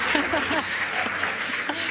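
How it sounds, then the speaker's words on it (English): Crowd at a SpaceX Dragon rocket launch cheering and applauding, a dense continuous wash of clapping and cheers with a voice faintly over it. "the crowd is going wild"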